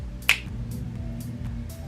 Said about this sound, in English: So I'm gonna snap my fingers